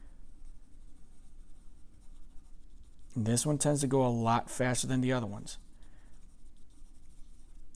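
A pencil scribbles across paper while shading a still-life drawing with a loose scribble line, giving a steady, soft scratching texture that runs throughout and continues under a brief stretch of talk.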